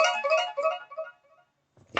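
A mobile phone ringtone plays a short melodic run of bright tones, then breaks off; a brief clattering rustle follows at the end.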